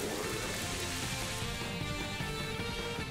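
Steady rain hiss from the Rain Dance move in the Pokémon Violet video game, a dense even downpour at moderate volume throughout, with no one talking.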